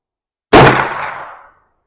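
A single suppressed gunshot cracks out loud and close at an outdoor shooting range, a sharp onset followed by roughly a second of decaying boom, with nothing else around it.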